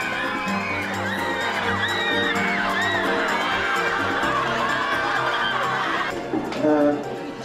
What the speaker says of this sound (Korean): 유명 스타들을 반기듯 한 명 한 명을 환호와 박수로 맞아주는 한국 학생들